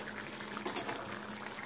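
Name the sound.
curry gravy boiling with pointed gourds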